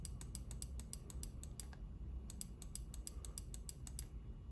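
Right button of a Pulsar Xlite V2 gaming mouse clicked repeatedly in two fast runs separated by a brief gap, each click sharp and close against steady background hum.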